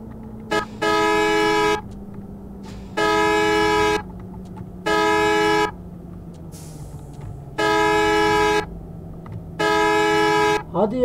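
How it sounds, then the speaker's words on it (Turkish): The horn of a Neoplan Starliner coach honks five times in long, insistent blasts with short gaps between them, loud and close over an idling engine hum. "kaçıncı korna basacağım?"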